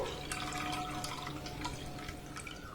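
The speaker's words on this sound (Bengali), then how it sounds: "এই 1 কাপ দুধ এখানে আমি দিয়ে দেবো।" Thickened milk, about a cup, is poured into a pan for malai kulfi, giving a soft continuous liquid trickle with a few light drips, close and fairly quiet, with no talking.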